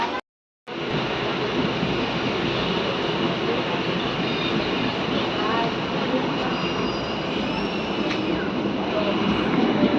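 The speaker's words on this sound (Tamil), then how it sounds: "ட்ரெயின் மூவிங் ஆகிடுச்சு" A train rolls along at steady speed after a brief silent moment, producing a loud, continuous rumble of wheels and carriages with faint squeals and rattles running through it.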